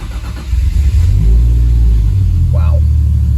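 A Toyota Supra Mk3 with a fuel cell surge tank conversion cranks over and fires up, its engine catching quickly and then revving loud and close in a rising, rumbling roar.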